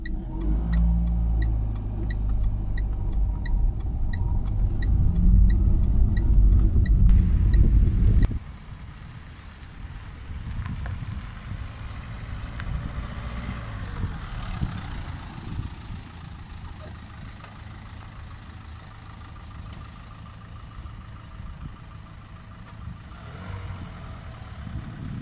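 Car engine on a hill start during a driving exam: a loud steady idle with ticking that drops abruptly after several seconds to a quieter, continuous running hum.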